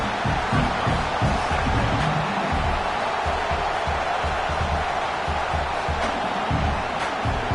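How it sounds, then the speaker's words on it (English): A college football stadium crowd roars steadily at a game, a broad wash of cheering and noise that stays loud and unbroken. "And the crowd coming to life here,"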